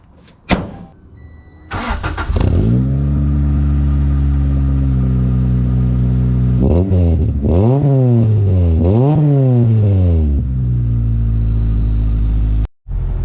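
A car engine cranks and starts after an oil change and coolant top-off, then idles loudly up close before revving up and down several times in rising and falling sweeps, cutting off abruptly near the end.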